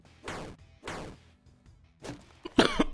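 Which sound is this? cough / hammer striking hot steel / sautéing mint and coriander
cough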